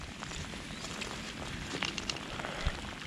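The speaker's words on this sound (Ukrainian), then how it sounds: "Поки на дворі йде невеличкий дощик" Light rain falls outdoors on a Dnipro riverbank during evening zander fishing, a soft steady patter with a few faint drips and taps and no talk.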